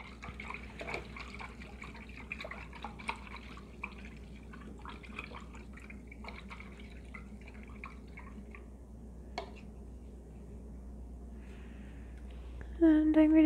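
An acrylic paintbrush is rinsed in a water cup, giving faint, quiet swishes and drips over a low steady hum, with a brighter sound and a short tone near the end.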